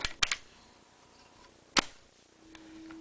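Cocking lever being racked on a Tippmann A5 M14 paintball marker: a sharp metallic double clack near the start, then a single crisp snap later, close and loud against a quiet room.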